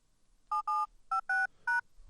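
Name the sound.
telephone dialing tones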